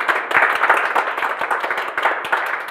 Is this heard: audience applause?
yes